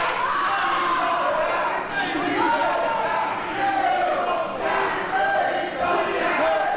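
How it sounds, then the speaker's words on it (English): Crowd at a women's wrestling show cheering and chanting to rally behind a wrestler, a sustained roar of voices with rising swells, steady and fairly loud throughout. "Crowd trying to rally on."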